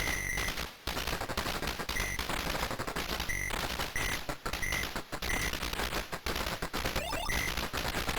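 Rapid arcade gunfire from a Capcom 1980s shooter game, steady bursts of shots running throughout with short electronic blips over a busy game soundtrack.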